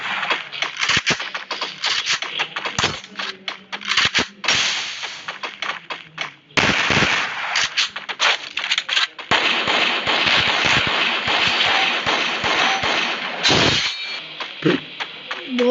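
Rapid gunfire in a video game, with dense bursts of shots, single cracks and longer automatic volleys, loud and close, running almost without pause.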